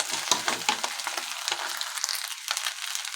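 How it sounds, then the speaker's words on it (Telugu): Pasta being stirred into fried masala in a hot frying pan, a close, continuous sizzle with scraping stirs and rustling clatters throughout, no talk. "మసాలా వేగింది, పాస్తా వేసేస్తున్నాను. దీన్ని కూడా బాగా కలుపుకోవాలి."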